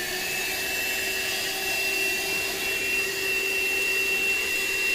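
A vacuum cleaner runs steadily inside a car while cleaning dirt and dust from the interior, a loud continuous motor whine and airflow roar, close and unbroken with no talking.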